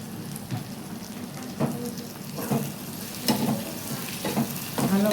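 Tomato with salt frying in a pan for egg curry, a continuous sizzle broken by repeated scraping stirs at an uneven pace, close and fairly loud.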